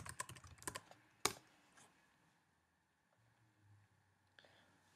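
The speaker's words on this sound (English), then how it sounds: "from there, you're gonna type in bash" Keys on a computer keyboard typing a command, a quick quiet burst of clicks followed by a firmer single keystroke like an enter press, then near silence with a faint click at the end.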